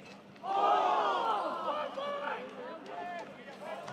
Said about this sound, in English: You can hear the gap crowd in the background.